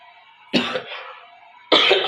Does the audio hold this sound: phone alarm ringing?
no